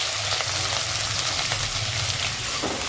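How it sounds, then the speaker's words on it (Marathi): Onion sizzles steadily in hot oil in a kadhai, a constant bright frying hiss with faint stirring, close and uninterrupted. "त्यामध्ये चार चमचे तेल घ्यायचं तेल गरम झालेलं आहे कांदा भाजून घेऊया"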